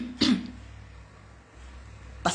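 A person coughs: a short, harsh cough near the start and another brief one at the end, separated by quiet room noise.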